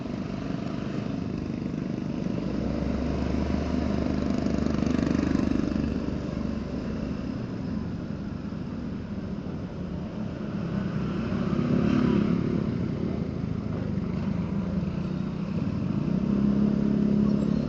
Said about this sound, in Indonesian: Oh, ada motor klasik nih.